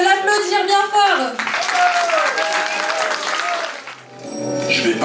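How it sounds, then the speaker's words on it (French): Applause from a festival audience rises after a voice, a dense, steady clapping that fills the middle of the clip before fading out. "On peut l'applaudir bien fort."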